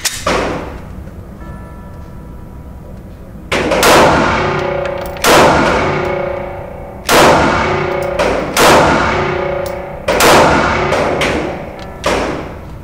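A Smith & Wesson M&P9 M2.0 pistol fires a slow, evenly spaced string of about six sharp, loud shots. Each report is followed by a short ringing decay, and there is no talking.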